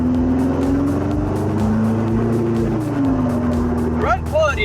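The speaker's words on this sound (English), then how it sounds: "A car built by me, harness and everything, and here I am on the road." A homemade 130 horsepower car driven on a public road, heard from inside as a loud, steady engine drone with gear-like pitch shifts and road rumble, a voice speaking over it.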